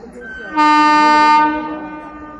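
A train arrives at platform 1 of a railway station with one loud horn blast of about a second, steady and close, which then fades into a low rumble.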